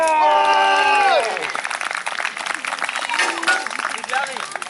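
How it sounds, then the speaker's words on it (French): A voice calls out over a crowd at a medieval knight combat show, then steady applause and clapping fill the space with scattered cheers and shouts. "on l'applaudit!"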